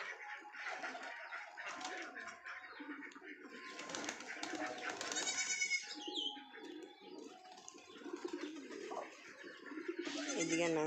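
A newborn kid goat gives thin, quavering bleats now and then over steady pigeon cooing, soft and somewhat distant, with a faint murmur of background activity in the yard.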